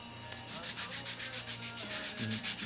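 Close-up sanding of wood: quick, even back-and-forth scraping strokes in a steady rhythm, with no talking.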